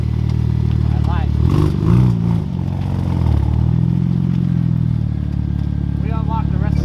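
A BMW 335i fitted with a 3.5-inch single-exit straight-pipe exhaust rumbles with a deep, steady drone that swells briefly as the revs rise, while people talk over it.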